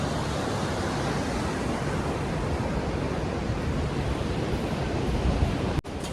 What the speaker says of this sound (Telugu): బ్యాక్గ్రౌండ్లో వాటర్ కూడా ఫ్లోయింగ్ బాగానే ఉంది.